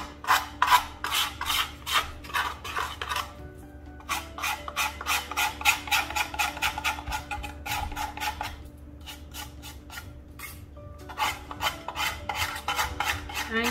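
A decoupage box surface is rubbed smooth with quick, rhythmic rasping strokes in close bursts, a dry scratchy filing texture pausing briefly between runs.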